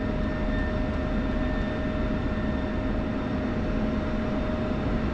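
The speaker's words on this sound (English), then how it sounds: "I'm gonna shut the jet down." An F-16 jet engine in the DCS flight simulator runs down during shutdown, a steady, continuous whine and roar with faint tonal hums, no talk over it.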